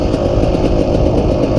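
A motorcycle engine runs steady and close before a ride out in the hills, a loud, even throb with no pauses or revving.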